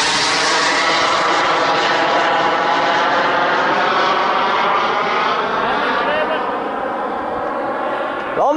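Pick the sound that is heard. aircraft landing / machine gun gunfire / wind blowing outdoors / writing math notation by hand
aircraft landing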